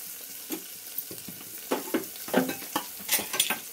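Chopped onions and two green chillies frying in a pan after whole spices, with intermittent stirring scrapes and soft sizzling, close by and moderately quiet, no voices.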